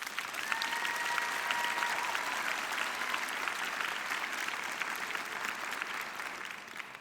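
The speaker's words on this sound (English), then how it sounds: "So please give yourself a big round of applause." An audience at a spring nursing pinning ceremony breaks into steady, dense applause that holds throughout, filling the room evenly without fading, with a faint voice briefly audible beneath the clapping.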